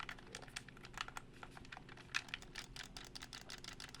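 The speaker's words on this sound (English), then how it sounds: "These tactile mods are very clicky." Tactile-modded buttons on an 8BitDo N64 Bluetooth controller are pressed over and over, producing rapid, crisp clicks in quick irregular runs, faint and close up.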